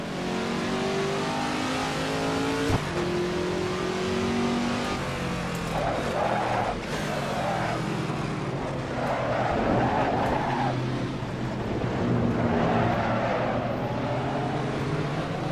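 Veloce GTS-8 race car mod driven on the Zandvoort circuit in Assetto Corsa, its engine droning steadily and revving through the gears with shifting pitch, loud and continuous, with faint tire noise.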